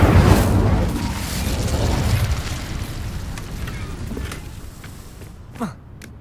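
An Incendio fire spell cast in Hogwarts Legacy, a loud whooshing burst of flame that roars at once and then slowly fades, ending with a small pop.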